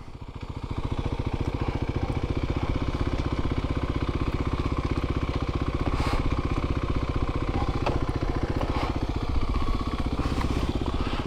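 Loud, unmuffled vehicle engine running steadily close by, a harsh rapid popping exhaust pulse throughout with faint clatter, no talk.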